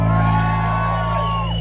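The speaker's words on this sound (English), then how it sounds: "Let them hear a big cheer." A festival crowd at Headstock 2016 lets out a big cheer for the band, a loud, continuous roar of whoops and yells under a steady low hum that holds for the full stretch.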